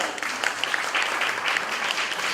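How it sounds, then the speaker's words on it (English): Brief burst of steady audience applause at a grief symposium, dense and even from start to finish, with no one speaking. "Y'all clap for her."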